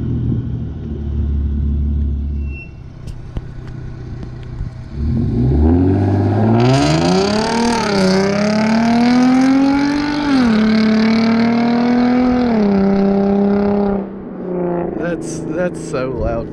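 Hyundai Genesis Coupe launching in paddle mode with traction control off, its engine rising from idle into a loud sustained rev that climbs in pitch, holds, then drops off, with people talking at the start and end.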